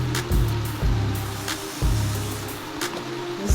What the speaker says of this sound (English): This will get a nice little steam going there.